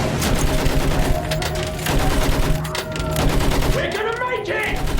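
Dense battlefield gunfire in a Battlefield 1 cutscene, rapid rifle and machine-gun bursts blending into a loud constant din, with shouting voices mixed in and a rising whine near the end.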